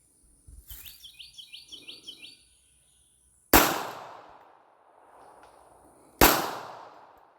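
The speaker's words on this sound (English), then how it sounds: "We'll run a few rounds through them, and we'll see about actual shooting quality and overall enjoyment to shoot." Two loud, sharp gunshots from a fake Glock pistol ring out about three seconds apart, each trailing off in a short echo. Birds chirp and insects buzz quietly outdoors before the first shot.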